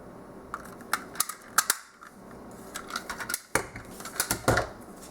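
A handheld craft punch snaps through paper for a tutorial card, making a run of crisp, close clicks and sharp clacks in irregular bursts, with short quiet pauses between clusters.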